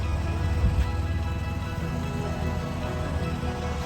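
Water from a pressure washer rinses red mud off concrete at a newly built home, a steady dense spray hiss close up without pause.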